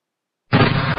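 A single sudden boom, like a dubbed gunshot effect, bursts out of silence halfway through and rings on loudly to the end; it is paired with a toy Nerf gun.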